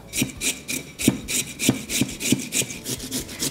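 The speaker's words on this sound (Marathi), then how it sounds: "बटाट्याचं साल काढून झालं की बटाटा किसून घ्यायचा." A peeled medium-sized potato is grated by hand, giving rhythmic rasping scrapes about three per second, close and crisp, with brief pauses between strokes.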